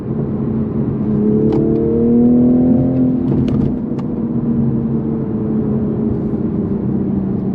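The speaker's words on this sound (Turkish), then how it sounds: "Bir de spor modunda hızlandıralım." Toyota Supra engine in sport mode accelerating, a loud sustained roar with rising whine and rev changes, steady throughout with no talking.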